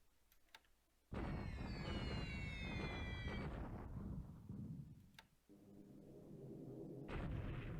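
A bombing attack in a WWII Pacific naval war video game erupts as a sudden loud rumbling blast with whistling tones, fades, then surges again near the end after a few faint ticks.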